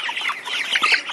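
Four-week-old broiler chickens on a farm flock of about a thousand cluck and chirp, a dense continuous chatter of many birds close by, with no talk.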